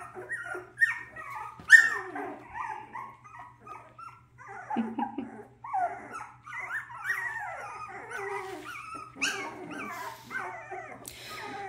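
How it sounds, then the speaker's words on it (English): Young puppies in a whelping pen make a run of small growls, whimpers and yips, close and fairly faint, continuous and playful with a faint hum behind. "We're practicing our growling."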